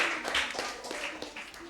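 A quiz competition audience claps for a school's round score, a moderately faint patter of hands with scattered sharper individual claps, uneven and brief.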